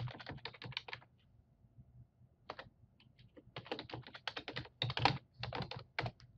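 Login details typed on a computer keyboard, bursts of rapid close key clicks broken by short pauses, heard alone.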